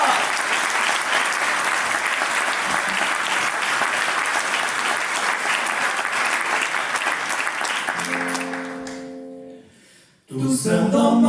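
Strong audience applause at a 30th-anniversary concert for a band, a loud continuous roar of clapping for about eight seconds before the band's instruments come in and the clapping fades, followed by a burst of music.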